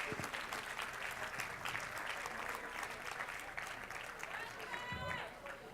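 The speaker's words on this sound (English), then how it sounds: "Let's give all of these fine players a round of applause" An audience at a school board meeting applauds football players, a busy wash of clapping mixed with crowd voices and movement, moderately close and fairly faint overall.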